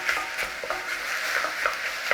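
Vegetables sautéing in a pot for a creamy potato soup made with leftover mashed potatoes, a steady bright sizzle with small crackles and stirring scrapes throughout, no talking.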